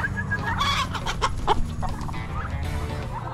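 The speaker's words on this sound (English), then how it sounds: "That's a big rooster right there." Chickens cluck and a rooster calls in a farmyard, a series of short bursts over a steady low rumble of outdoor noise.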